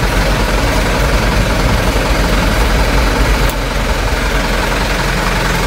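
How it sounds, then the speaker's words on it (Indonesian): A 2018 HDV truck's diesel engine idles nearby, a loud, steady, rumbling drone that holds without change throughout. "Oke, mesinnya udah hidup nih ya."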